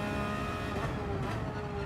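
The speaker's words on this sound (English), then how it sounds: "the cars on the other section of the track" In Gran Turismo 7 at Suzuka, race cars on another section of the track give off a distant engine drone with shifting pitch, a steady hum that carries on without a break.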